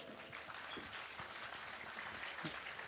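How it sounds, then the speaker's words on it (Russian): An audience applauds at the opening concert of an international festival of author's song and poetry, a steady, fairly faint wash of clapping that continues throughout. "Я думаю, что это достойно аплодисментов."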